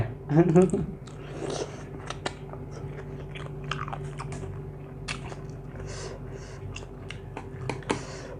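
Close, wet chewing and biting while eating a spicy shrimp salad with rice noodles, with crunchy bites clustered near the start and softer mastication continuing throughout, a voice talking intermittently underneath.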